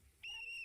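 A single short, shrill whistle blast, clear and fairly close, cutting in briefly after a faint background murmur.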